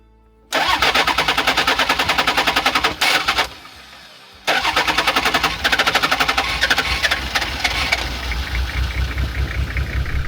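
Old diesel engine being cranked, a loud rapid rhythmic chugging of the starter that stops briefly, then resumes and catches as the engine splutters into an uneven running clatter.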